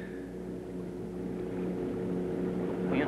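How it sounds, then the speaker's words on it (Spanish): Speedboat motor droning steadily in the distance, a low humming engine tone that slowly swells slightly louder with no talk over it. "es el motor de una lancha rápida"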